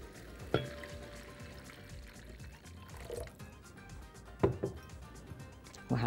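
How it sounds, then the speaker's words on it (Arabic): Water is poured into a cooking pan of vegetables and tomato juice, with a steady liquid wash broken by a few sharp clinks of a utensil against the pan, close and fairly quiet. "هنزل عليهم ميه"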